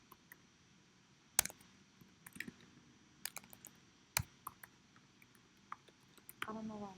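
Sparse clicks from a computer keyboard being typed on, quiet and irregular, with a few sharper keystrokes and a voice briefly at the end.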